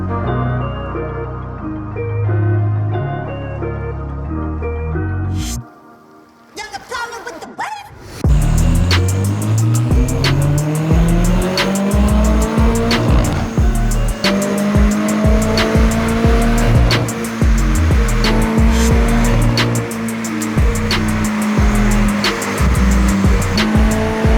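A Toyota MR2's engine revs hard on a dynamometer and climbs steadily in pitch, loud and close, after a brief idle and a short pause, then holds a high, strained roar.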